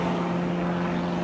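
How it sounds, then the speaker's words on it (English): A propeller airplane drones overhead, a steady tonal hum with a strong low pitch that holds evenly throughout the short stretch, with no talking. "there's a plane"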